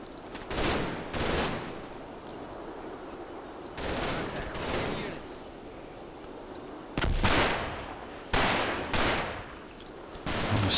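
Gunfire in the WWII game Combat Mission Market Garden: several loud, sharp bursts of rapid shots in clusters, with brief quieter gaps of low rumble between volleys.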